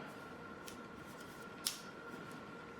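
Scissors snip hair during a home haircut of a boy's or gent's hair, one sharp, close snip standing out from quiet room tone, with a few fainter snips or comb sounds around it.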